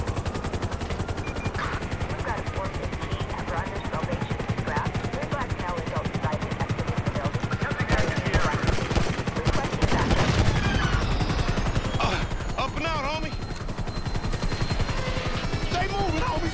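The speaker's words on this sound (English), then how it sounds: "We ain't going nowhere with that chopper on us. Take it out." Dense rapid gunfire and machine-gun bursts ring out over the steady thump of a helicopter in a Grand Theft Auto V shootout, loud and close, with voices talking over the action.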